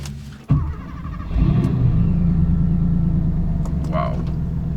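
A Porsche 959 fires up with a sudden thump and settles into a deep, steady engine rumble, close and loud, with slight revving as it pulls away.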